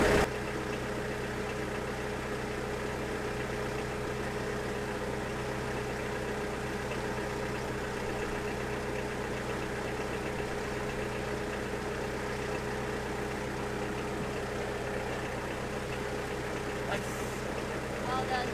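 A sailboat's engine runs in reverse while the boat holds position near shore, a steady mid-pitched drone throughout, with people talking over it.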